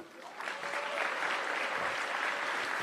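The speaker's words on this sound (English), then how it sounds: "one more round of applause for them." An audience at an awards evening applauds steadily, dense clapping swelling slightly after the first half second and holding at an even level, with no talk over it.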